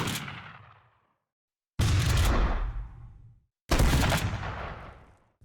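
Three Team Fortress 2 weapons fire in turn, the shotgun, the Reserve Shooter and the Panic Attack, each a loud close blast with a decaying tail, spaced about two seconds apart, with no talk.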